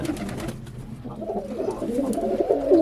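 Pigeons kept by a hobbyist cooing close by, soft throaty rolling calls that overlap and grow louder toward the end, with no talking.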